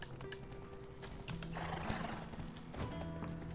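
A donkey mount in the video game Black Desert trots with quiet, rhythmic hoof clops and a faint bray-like call in the middle, set against soft game ambience.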